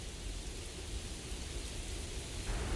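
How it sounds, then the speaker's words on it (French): A stormy gust in a Beyblade Metal Fusion anime battle, with a dense roar of wind and rain like rushing noise, steady and loud with a rumbling low end, no talk. "Quelle tempête!"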